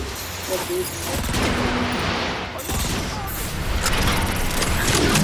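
Gunfire and heavy combat noise in Transformers: Fall of Cybertron, a dense loud barrage of rapid shots, booms and mechanical clatter that runs continuously, with a voice briefly over it.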